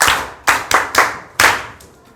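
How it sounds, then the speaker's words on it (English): A class claps hands for a student in a campus session, a short run of about six loose, uneven claps close by, fading out at the end. "Clap hands for her."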